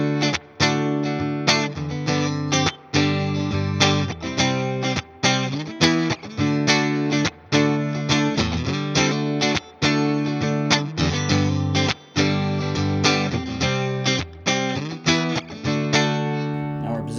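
A PRS Silver Sky electric guitar on its middle pickup plays a rhythmic strummed chord pattern with bright, full tones, repeated choppy strokes separated by short muted gaps, steady and close throughout.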